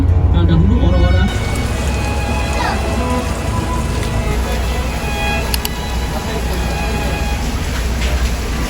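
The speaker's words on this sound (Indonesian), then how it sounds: "Hujan ternyata cukup deras" Heavy rain pours down in a city near the Twin Towers in Malaysia, a loud, dense and continuous hiss with traffic rumble underneath.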